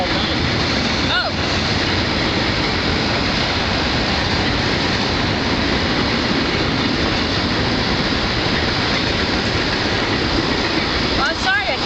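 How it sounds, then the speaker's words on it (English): A passing train fills the whole stretch with a loud, steady roar and rumble, close by and unbroken from start to finish. "I can't hear you over the train."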